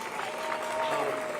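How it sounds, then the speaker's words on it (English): Audience applause rises steadily at the grand opening of the Kansas City streetcar's Main Street extension, with continuous clapping from a large outdoor crowd. "So, big round of applause to our partners"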